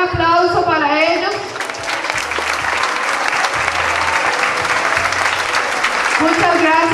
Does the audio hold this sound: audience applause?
yes